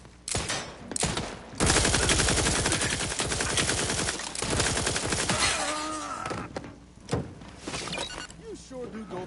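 Rapid automatic gunfire in The Outer Worlds 2, loud close bursts of shots that rattle and fade into scattered pops and thuds, with a voice speaking partway through.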